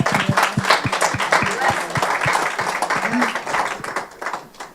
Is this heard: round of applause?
yes